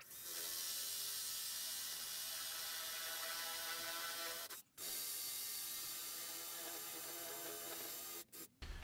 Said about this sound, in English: I'm just going to use a Forstner bit to go enough to cover the bolt